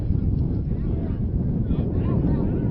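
Wind gusts across an open outdoor football field during a fall league game, a loud low rumbling buffet against the microphone, continuous and close, with faint muffled voices underneath.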